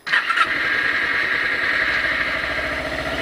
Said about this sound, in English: you're gonna start the bike while adjusting this, and then your RPMs will shoot up.